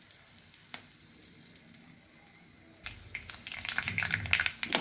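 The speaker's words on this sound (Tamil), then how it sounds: "இப்போ கடுகு பொரிஞ்சிட்டு" Mustard seeds hit hot oil with fenugreek, asafoetida and red chilli, starting quiet with sparse pops, then breaking into a dense burst of close spluttering crackles over the last two seconds.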